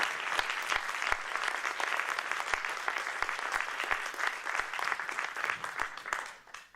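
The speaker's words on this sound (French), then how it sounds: "donc vous pouvez l'applaudir" An audience at a comedy show claps in a thick, continuous wave of applause that stays even for several seconds before tapering off; it is heard from a moderate distance.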